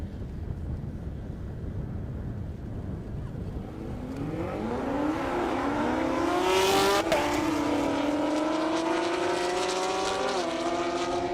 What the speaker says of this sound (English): Now we got another Supra with a Camaro